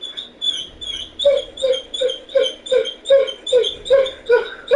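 A pet dog named Liger whimpering and crying in a house, a close, repeated series of high whining yelps in a steady rhythm, each cry rising and falling, loud and alone.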